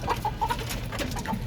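Chickens cluck in short repeated bursts close by, a steady farmyard murmur of fowl with no talking over it.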